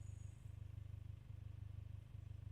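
A vehicle engine idles in the survival video game SCUM as a faint, steady low rumble with an even pulsing throb and occasional soft knocks.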